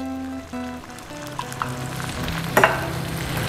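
Egg, rice and vegetables sizzle steadily in a pan for Chinese crab fried rice, with a constant frying hiss, a few clinks of stirring and a brief louder scrape near the end.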